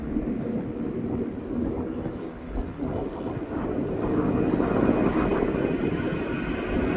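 At East Midlands Airport, a plane takes off with a broad, rumbling jet roar that swells steadily as it climbs, loud and continuous across the outdoor scene, while faint bird chirps come and go.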